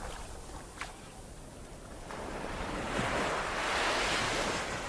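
Ocean waves washing in steadily with wind noise, a boat at sea, the surf swelling louder toward the end with no voices.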